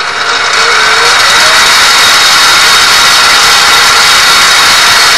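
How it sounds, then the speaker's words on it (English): X2 mini mill with its gear drive running in low range, a loud, steady mechanical whine and gear noise holding constant throughout, close and continuous with no talk. "Very noisy gearing."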